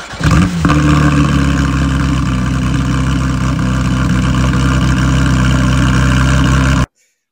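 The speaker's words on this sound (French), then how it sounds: "Bah, échappement full tube quoi." A Porsche 991.2 GT3 RS with a full-tube exhaust runs loud and close, holding a steady, deep, throaty drone for about seven seconds before cutting off abruptly.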